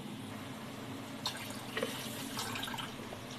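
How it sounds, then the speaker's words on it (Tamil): Water is poured into a pot of rice while cooking vegetable brinji rice, making a faint, intermittent trickle and splash against a quiet kitchen background. "கொஞ்சம் தண்ணி ஊற்றிக்கலாம்."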